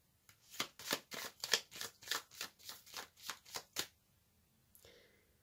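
Tarot cards shuffled and drawn by hand, a quick run of a dozen crisp, evenly spaced riffling flicks at close range, then a short pause and a softer slide as one card is drawn.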